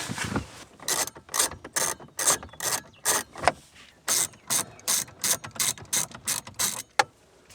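Ratchet wrench backing out 10mm bolts that hold the radio unit in a Toyota 4Runner, giving close, crisp clicking bursts in a steady repeating rhythm with short pauses between strokes, no talk.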